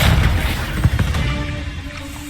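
A Depulso spell blast in Hogwarts Legacy: a heavy booming burst that swells up front, then a couple of sharper thumps that fade into a rumbling tail.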